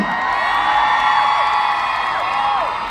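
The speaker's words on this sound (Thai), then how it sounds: "ปรบมือกับคุณชาลินอูหน่อยได้ไหมครับทุกคน" A crowd at a Skechers store grand opening at CentralWorld cheers loudly, with high-pitched shrieks and whoops sustained throughout in a continuous wall of excited voices.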